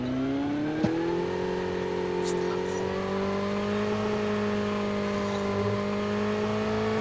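A vehicle in the mobile shooter Call of Duty Mobile drives with a continuous smooth engine drone that slowly rises in pitch, with a faint click near the start and no talk.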